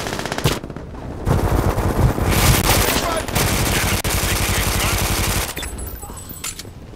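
Burst-fire weapon shooting in Brink, loud rapid gunfire in repeated bursts over several seconds amid other battle noise.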